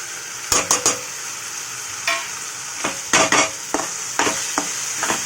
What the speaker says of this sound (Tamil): நல்லா தக்காளி ஃப்ரை ஆகிடுச்சு